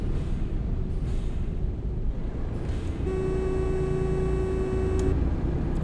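A bus in a Turkish driving simulator brakes on the Niksar–Tokat route map, a steady engine rumble joined by a rising whine and tonal squeal, ending in a short hiss.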